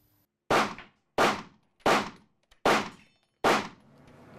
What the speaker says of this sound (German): Daniel Sitzmann und Sabrina Golling üben den Umgang mit Einsatzwaffen und schießen scharf